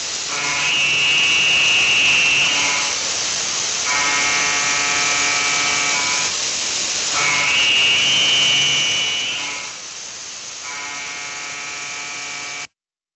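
A milling machine cuts with a 70 mm tool overhang and chatters from vibration, giving a loud buzzing tonal whine that alternates between two pitches in passes before stopping abruptly.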